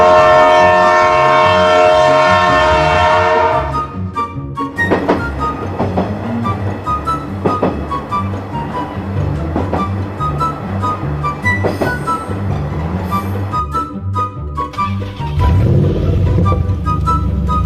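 A passenger train stands at Bhairab Junction station during an engine change, its heavy diesel rumble and rhythmic clanking steady throughout, with a brief horn-like tone near the start and a louder surge of engine noise toward the end.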